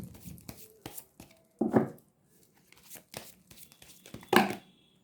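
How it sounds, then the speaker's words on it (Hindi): Tarot cards slap and flutter as they slip out during shuffling, with a papery riffle early, quiet soft taps between, and a louder burst of falling cards near the end. "बहुत सारे कार्ड्स एक साथ गिर रहे हैं"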